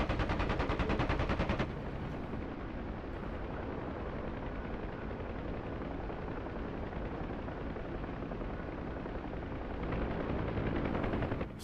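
Gunfire in a DCS World combat scene with Huey helicopters, with rapid machine-gun bursts at the start and end over a dense, continuous rumble of battle noise.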